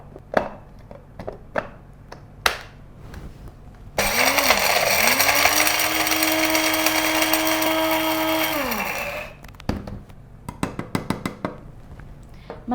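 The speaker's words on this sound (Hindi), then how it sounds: "इन तमाम मसालों को हम अच्छे तरीके से ग्राइंड कर लेंगे।" An electric grinder whirs loudly for about five seconds, pulverizing green cardamom pods and cloves, with its motor pitch steady then winding down; scattered clicks and kitchen taps come before and after.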